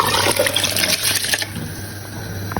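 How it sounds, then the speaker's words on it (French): Soaked basmati rice goes into a pot of boiling water for a chicken biryani, giving a brief watery splash and pour followed by a steady bubbling hiss, close and moderately loud with no talk. "Voilà, je rajoute le riz."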